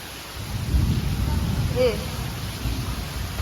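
Steady rain and gusting wind with a low rumble of thunder rolling underneath, during a storm that floods a house, while a voice briefly calls out midway.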